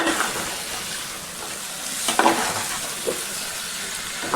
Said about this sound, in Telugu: అలా నూనెలో కాసేపు కలిపితే ముక్క గట్టి పడుతుంది